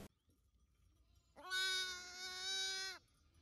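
A newborn lamb, carried in a shepherd's food bag in the cold countryside, lets out one loud, clear, wavering bleat at close range after a quiet pause.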